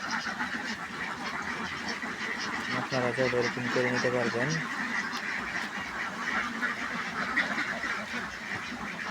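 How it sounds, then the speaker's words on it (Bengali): Ducks bathing in a small water tank on a farm quack and honk in a loud burst in the middle, against a constant wash of running water. A person talks over the birds. "হাঁসগুলা এই যে এখানে গোসল করে"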